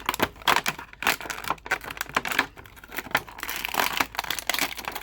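Plastic blister packaging of a Power Rangers Lightning Collection Green Ranger figure crinkles and crackles steadily as the figure is pulled out, a busy, close rustling that runs throughout with no talking.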